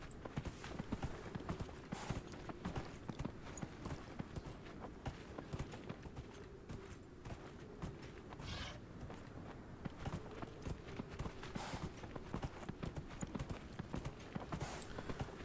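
Horse hooves clip-clop steadily as a rider crosses desert dunes in Dragon Age Inquisition, a continuous rhythmic stream of hoofbeats with faint game ambience underneath.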